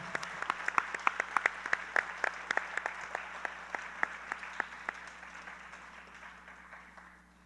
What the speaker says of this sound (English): I think Sanjana deserves another round of applause.